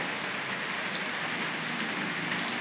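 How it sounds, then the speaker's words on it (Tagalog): Steady, even hiss of rain falling downtown on a sunny Saturday morning, a dense wash of drops with no pauses and no voices. "umulan na naman ngayon. Maulan na may sikat ng araw po."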